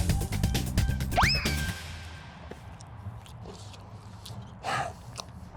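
A Taco Bell Crunchwrap Supreme is bitten and chewed up close, a crunchy bite followed by softer wet chewing, after a brief springy tone at the start.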